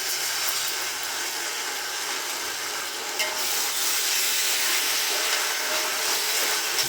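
Ginger and garlic fry in a hot pan with onions for Kada mandi biryani, giving a loud, steady sizzle and crackle that stays close and continuous, with no talking.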